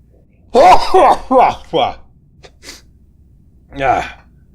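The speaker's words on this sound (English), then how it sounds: "Sneeze alert." A few gasping, voiced breaths build up, followed after a pause by a sharp, close sneeze burst during Starfield gameplay.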